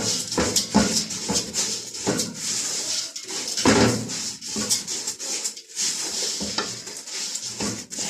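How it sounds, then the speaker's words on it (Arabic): Eggs frying in a pan are flipped with a utensil: repeated scraping and clacking strokes against the pan over a sizzling bed of frying, loud and close, with no voices. "هنا بدي اقلب بيض"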